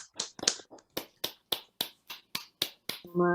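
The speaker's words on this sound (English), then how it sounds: "let's all unmute, and so you can hear the applause" A single unmuted participant on an online poetry-reading call gives sharp, evenly paced claps close to the microphone, about a dozen in quick succession, before a voice starts speaking.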